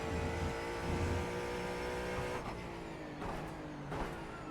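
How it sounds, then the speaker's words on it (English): Engine note of a race car in the iRacing sim game, a multi-class sports car race at Brands Hatch, steady and loud throughout as a faster car closes in from behind, with no talk. "Faster car coming up quick."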